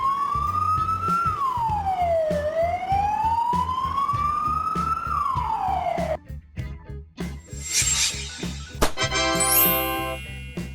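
A Spanish ambulance siren sounds loud and close, sweeping up and down in a slow wail, then switches to a faster, choppy warble and a chime-like pulsing pattern near the end, with no voices.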